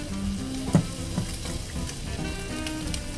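Shrimp and zucchini sizzle steadily in a pan after white wine is added, a close, continuous frying hiss broken by a few stirring scrapes and small pops, with no talking.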